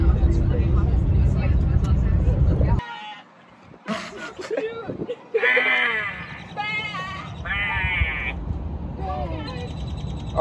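Several sheep bleat in wavering calls, close by, after a loud rumbling engine cuts out; the bleats overlap and repeat through the rest.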